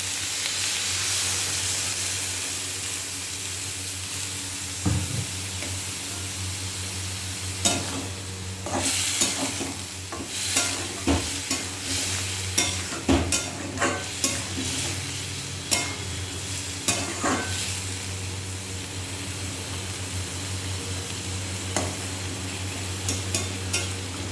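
Boiled potatoes in a hot pan sizzle steadily after a little water is added, with a continuous frying hiss and repeated clicks and scrapes of stirring throughout.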